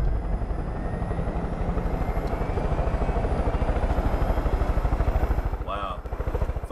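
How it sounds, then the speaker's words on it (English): A helicopter in Far Cry 5 spins up with a loud, steady rotor chop and engine drone close by, the blade thump beating in a regular rhythm with a brief dip near the end. "Bruh, I'm about to fly a helicopter."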